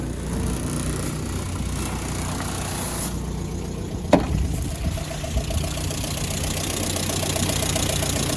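A Land Rover Series II 88in with an ex-military petrol engine idles steadily and close by, its mid-pitched rumble continuous throughout, with one brief sharp click partway through.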